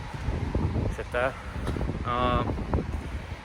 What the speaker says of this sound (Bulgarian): Тук е малко вятър, сигурно нещо няма да се чува.